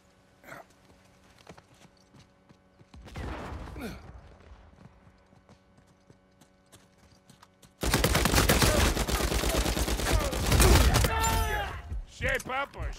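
Gunfire in Uncharted 4, a sparse few shots early, then a sudden dense barrage of loud rapid firing with clattering effects and some voices mixed in.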